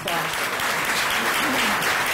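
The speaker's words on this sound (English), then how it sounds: "let's give them a round of" Audience applause for city and utility employees at a State of the City address, a dense, steady wash of clapping from a large crowd filling the whole moment.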